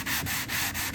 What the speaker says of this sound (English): this is a soft block. It's like a piece of foam. It's bendable. It's much easier on the sandpaper.